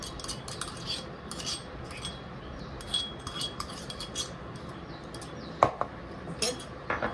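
A metal spoon scraping and clinking in a pan while pounded ginger-garlic paste is stirred in, with irregular light taps and one louder clink among them.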